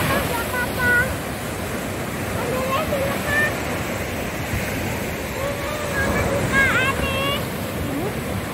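Waves surge and wash steadily along the shore at Empu Rancak beach in Jepara, a continuous broad roar with faint voices and chatter in the background.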